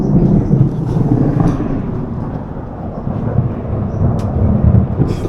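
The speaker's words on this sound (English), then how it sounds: "Thundering," Heavy thunder rolls in a long, continuous rumble during a storm in Lithuania, loud and deep throughout with no voices over it.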